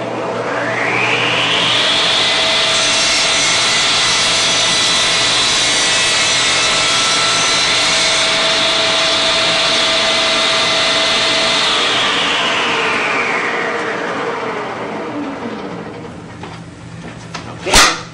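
A Shopsmith saw making a compound miter cut through a wooden board, a loud steady whine that winds up, holds for about ten seconds while the blade cuts, then spins down, ending with a sharp knock.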